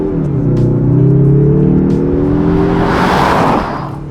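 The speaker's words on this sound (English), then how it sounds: "it does make a pretty nice sound in here. The engine sounds pretty good." Heard from inside the cabin, a 2025 Mazda3 Turbo's engine pulls hard under acceleration, its smooth rising drone climbing in pitch through a gear, then easing off as road and wind noise take over near the end.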